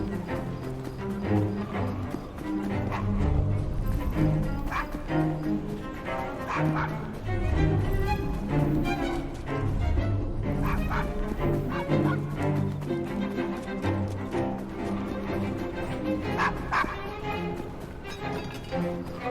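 A dog in the video game Assassin's Creed Syndicate barking, yipping and whimpering repeatedly, close and prominent over a busy background of music and game ambience.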